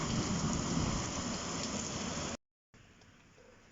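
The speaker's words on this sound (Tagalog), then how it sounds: "Oh my God, ito na siguro yung pinakamalakas na ulan this year." Heavy rain pours down during a storm, a loud dense steady hiss that drops out briefly, then returns fainter and more distant, with no one speaking.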